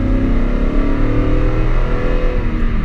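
A 2019 Toyota Sequoia SUV accelerates at full throttle, its engine roaring loud and steady from inside the cabin, the pitch climbing as it pulls hard for a few seconds, with no voices over it.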